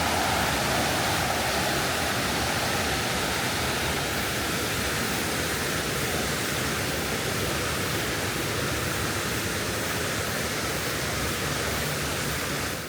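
A mountain valley stream on a late-summer trekking route rushes steadily beside the trail, a loud continuous broadband wash of flowing water that never lets up.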